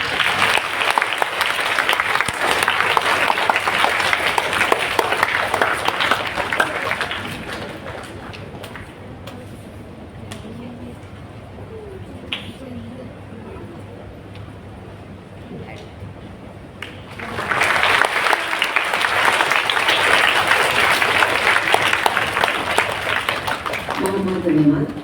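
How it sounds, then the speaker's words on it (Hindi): Audience applause at a ceremony honouring mothers, a loud burst of clapping for several seconds that fades into quieter hall noise with voices, then a second strong round of clapping. "एक बार तालियां हो जाए।"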